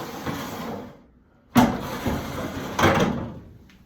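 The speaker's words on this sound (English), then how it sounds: "Got the barn door here." A sliding barn door inside a duplex unit with tile floors, rolling along its track in two loud scraping pushes separated by quieter rumbling, close by and with no one talking.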